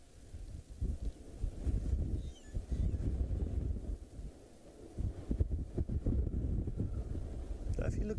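Wind blowing at a dam at sunset, rumbling against the microphone in gusts that swell and ease, fairly faint overall.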